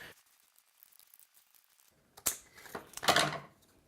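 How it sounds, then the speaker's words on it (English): Scissors cut a circle out of paper for a DIY custom bokeh shape. A quiet stretch gives way to a few close, crisp snips and crinkles near the end. "Now we're just going to cut this circle out with some scissors."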